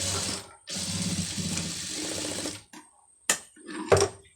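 An electric sewing machine stitches fabric in a close, loud whirring burst of about two seconds, stops, then gives two short clicks and rattles.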